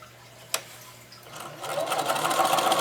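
A sewing machine stitches through a denim jeans bag, starting after a single click and settling into a steady, fast, close mechanical whirr that grows louder, with no talk over it.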